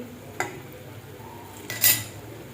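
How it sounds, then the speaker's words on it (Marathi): A metal lid clinks twice onto a pan of mushroom masala cooking on a gas stove: first a short sharp clink, then a brighter, louder rattle about a second and a half later, with quiet kitchen background in between. "झाकण ठेवून आपण जवळजवळ ह्याला 10 मिनिटं चांगलं शिजवून घेणार आहे"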